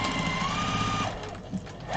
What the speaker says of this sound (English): I just wanted to sew this all over again